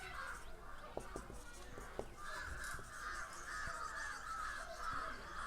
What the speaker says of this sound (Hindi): बहुत ज़्यादा कौवा बोलने लगा यार।